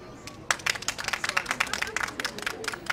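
Applause breaks out from a group of people in a film scene, starting abruptly after a quiet half-second and continuing as dense, uneven clapping at moderate loudness, with some cheering voices mixed in.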